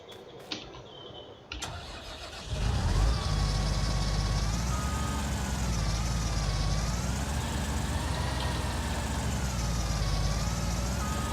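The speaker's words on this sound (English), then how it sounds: "Oh, love that tractor." A tractor in Farming Simulator 19 starts up after a few clunks and then drives on with a loud, steady engine drone whose pitch rises and falls gently.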